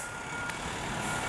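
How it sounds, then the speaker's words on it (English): A fire truck from the Montreal fire department arriving on a city street, heard as a steady loud engine rumble with a brief high beep, close by. "Here comes another truck over there."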